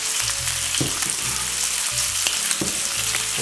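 Pancake batter sizzling on a hot griddle, a close, continuous crackling fry with occasional scraping and clatter from utensils.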